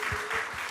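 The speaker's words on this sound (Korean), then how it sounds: "박수 한번 주세요" Audience applause at a Korean talk show as a guest comes up on stage: a brief, steady wash of hand-clapping with no clear gaps.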